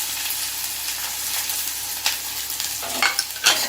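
Chopped large onions and green chilli pieces hit hot oil for a country chicken curry, giving a loud, continuous close sizzle with a few stirring scrapes toward the end.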